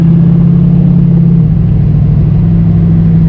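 A 1966 Ford Mustang convertible with a carbureted V8 rumbles loudly up close, a deep steady idle that shifts pitch slightly midway through a short rev, with no voices over it.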